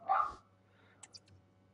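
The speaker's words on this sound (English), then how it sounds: "the last time Taz barked" A dog gives a single short bark up close, followed by faint clicks and quiet room noise.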